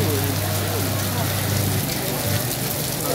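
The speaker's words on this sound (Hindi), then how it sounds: "ये देखें गाइस बहुत तेज़ बारिश। और गाइस ये देखें ओले पड़ने शुरू हो गए हैं जी।" Heavy rain mixed with hail pours down on a market street in Lahore, a dense, loud, continuous hiss and patter of drops on surfaces throughout.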